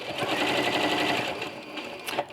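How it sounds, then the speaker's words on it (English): A quilting sewing machine fitted with a walking foot stitches a line in a fast, steady, continuous whir, loud and close, with a brief clatter near the end. "We're going to start by putting a nice line of stitching."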